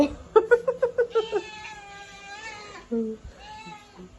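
A cat meows close by, a quick string of short, pulsing meows followed by a few longer, drawn-out calls in a quiet room.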